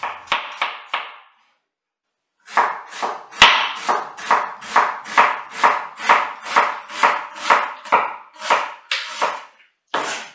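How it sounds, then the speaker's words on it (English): A sharp knife dicing a large onion on a cutting board, giving a few quick chops, a brief pause, then a long, even run of crisp, close chops at a steady rhythm before one last cut. "going to dice the onion up"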